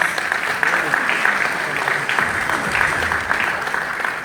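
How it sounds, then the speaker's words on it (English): An audience at a Hindu temple society's annual Mariammen prayer gathering in Mount Edgecombe applauds. Dense, sustained clapping fills the room at moderate loudness, with voices faintly mixed in. "Let's give her a huge round of applause."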